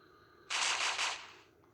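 A shotgun fires in the Stickman and Shotgun video game, heard as a short, loud burst of several rapid shots lasting under a second that then fades into quiet.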